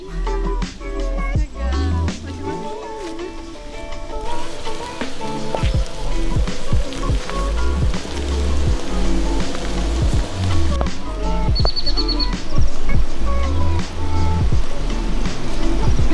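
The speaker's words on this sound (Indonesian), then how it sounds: "ketara hujannya ya" Rain falls outdoors as a continuous patter and hiss, growing heavier partway through, mixed with sharp clicks and rustles nearby.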